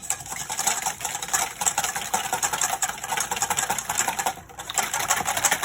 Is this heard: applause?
no